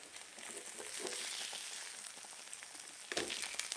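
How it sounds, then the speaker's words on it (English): Salmon fillets sizzle in a frying pan, giving a soft steady crackle of fat at low volume, with a sharper burst of spitting near the end and no talking. "This is a simple sizzle moment that I don't like."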